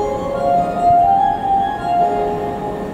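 Hankyu 6300 series two-door train running on the Arashiyama Line, a steady rolling hum with sustained tonal whines rising and falling, heard from inside the car with no talking.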